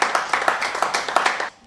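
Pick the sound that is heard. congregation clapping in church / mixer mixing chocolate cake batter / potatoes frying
congregation clapping in church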